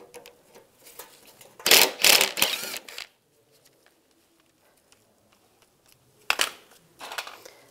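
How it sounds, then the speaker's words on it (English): Short mechanical ratcheting and clanking from a T30 socket working a radiator bolt loose underneath a 1999-2005 Volkswagen Jetta, loud bursts near the start and end separated by a quiet gap. "Now we'll take this bolt out under here."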